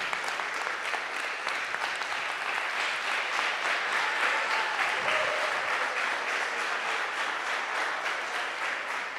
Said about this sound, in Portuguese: Você pode aplaudir bem forte a Deus por esse tempo?